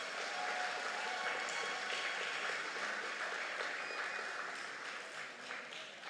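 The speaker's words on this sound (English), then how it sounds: "Let's give the recipients one more time a round of applause." Audience applause at a secondary school graduation ceremony, a dense, sustained wash of many hands clapping in a large room that gradually thins and fades near the end.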